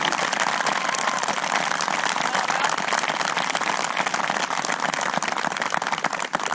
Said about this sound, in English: I want you to show these teachers a deserving round of applause for their tireless efforts.